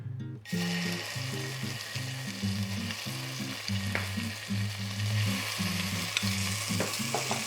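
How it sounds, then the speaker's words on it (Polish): Spicy paprika paste dropped into hot oil, a bright continuous sizzle starting abruptly and holding steady close by, with faint occasional pops and a low tonal hum beneath, no talking. "Olej jest już gorący, mogę dać trzy hojne łyżki pasty paprykowej"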